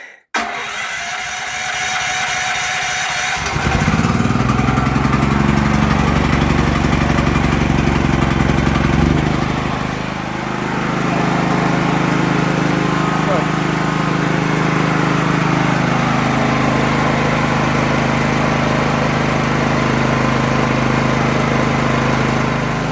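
A small petrol engine generator cranks, catches after a few seconds and then runs loudly and steadily at close range, its hum settling after a brief change in pitch.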